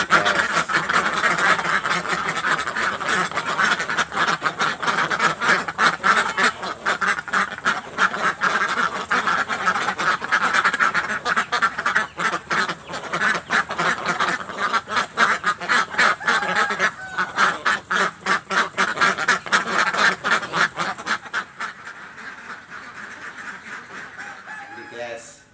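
A pen of fifty laying ducks on an egg farm quacks loudly and continuously in a dense, overlapping chorus close by, with a person speaking over the flock before the noise eases near the end.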